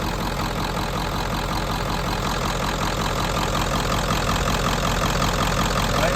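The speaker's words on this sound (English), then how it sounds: "But it does have a rough idle still" A 7.3 Powerstroke diesel engine idling roughly, a loud, close, continuous low rumble with an uneven knocking texture throughout and no talk.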